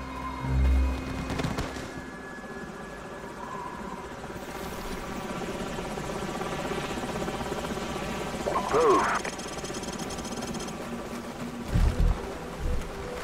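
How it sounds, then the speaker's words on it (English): Enemy helicopters in the video game Call of Duty 4: Modern Warfare, a steady rotor drone running throughout beneath game voices, with scattered bursts of gunfire and booms. "Enemy helicopters."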